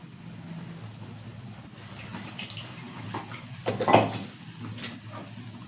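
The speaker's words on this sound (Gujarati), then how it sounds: "આપણે મિક્સર જારમાંથી બધી ગ્રેવી એડ કરી દેશું" Blended gravy for matar paneer poured from a mixer jar into a pan, a soft wet pouring and splashing with a short louder gush in the middle over low kitchen background, no talk.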